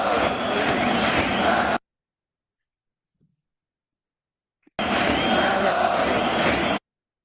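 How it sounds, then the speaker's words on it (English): Japanese baseball fans cheer in unison as a massed crowd, a dense roar in two loud bursts of about two seconds each with silence between them. "And of course, they cheer in unison."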